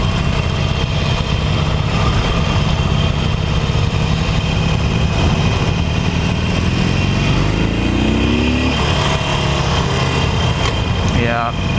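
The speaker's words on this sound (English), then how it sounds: "I feel like this bike wants to be in a gear lower all the time." A Harley-Davidson Iron 883 motorcycle engine rumbling steadily while being ridden, with a loud continuous drone under wind noise and a rising note near the end, as a rider talks over it.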